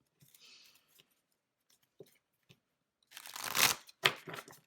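Tarot cards being shuffled close by, a few light riffles early, then a loud dense burst of shuffling followed by a couple of sharper riffles.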